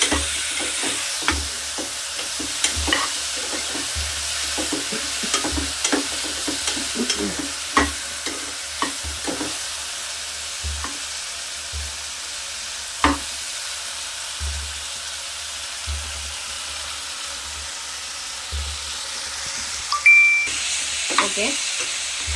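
Diced potato frying in a pan for dal khichdi, a soft continuous sizzle punctuated by repeated scraping and tapping of a spoon as it is stirred, with a short metallic clink near the end.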